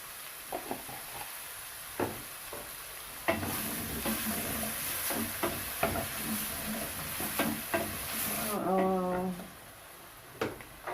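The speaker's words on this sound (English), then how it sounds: "Onions have been on fire for about 3 minutes." Onions frying with salt in a pan for fried rice with cabbage, giving a steady sizzle under repeated stirring scrapes and taps of a utensil, close and moderately loud, with a brief squeaky scrape near the end.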